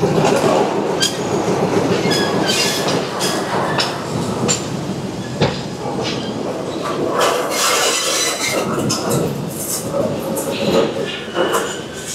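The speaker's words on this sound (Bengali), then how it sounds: "বললাম না রিভার্স হবে এখান থেকে ট্রেন।" Train on the Colombo to Galle line reversing out of a station, a continuous loud rumble with clanks and squealing wheel noise from close range, a voice briefly heard under it.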